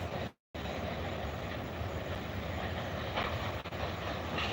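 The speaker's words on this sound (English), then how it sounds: "Oh, that's a smaller train than usual." A short CSX freight train rolls along railroad tracks, its low steady rumble heard from some distance, with a brief dropout near the start and no talking.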